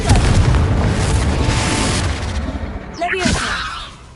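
A Confringo spell explodes in Hogwarts Legacy: a loud, booming blast with a rumbling crackle that fades, then a short magical whoosh near the end.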